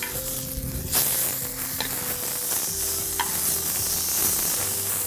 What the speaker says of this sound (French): Donc si c'est bien chaud, on va colorer la viande là.